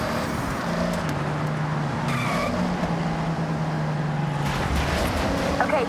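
A car in the racing game Forza Horizon 6 skids and brakes to a full stop, tires squealing over a low engine drone, with a brief shift near the end.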